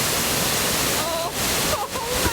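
A waterfall in the Grampians on a winter day gives a steady, broad rushing roar that fills the scene throughout, with faint voices briefly heard over it.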